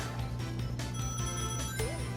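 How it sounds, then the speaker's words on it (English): A telephone rings nearby with a run of bright, tonal chimes that rise and fall over a steady background hum, with no speech. "Oh, that was just my phone if you heard that."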